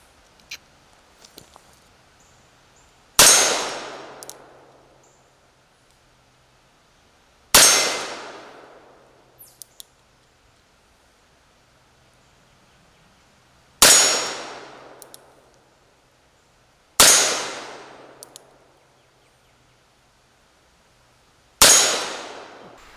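A Colt Police Positive revolver fires five spaced shots, each followed by a ringing clang of steel targets decaying over a couple of seconds, with small clicks of cocking and handling between shots.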